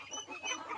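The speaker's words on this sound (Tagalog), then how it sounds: "Naglabasan na yung mga manok, oh." Heritage chickens, including Light Sussex and Rhode Island Red hens, spill out of a coop with a brief, close burst of honking, squawky clucks.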